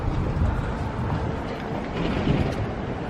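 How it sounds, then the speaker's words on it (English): A train rolls past near Windsor Castle in the UK, a steady, dense rumble lasting throughout at moderate loudness, with no talk over it. "There's a train."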